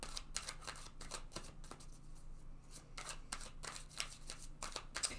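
Tarot cards handled and drawn from a deck during a love tarot reading: a close run of crisp, papery flicks and snaps at an irregular pace over a low steady hum, with no one talking.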